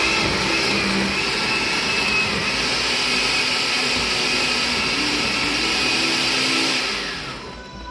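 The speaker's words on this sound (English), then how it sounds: "he's about to blend it up" A blender whirs loudly and steadily at high speed for several seconds blending Trinidadian callaloo, then winds down toward the end.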